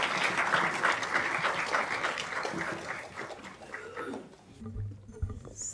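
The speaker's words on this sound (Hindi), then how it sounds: "भरपूर तालियों के साथ" Applause from a large festival audience welcoming guest speakers at an Urdu poetry gathering, dense steady clapping filling the room before thinning out toward the end.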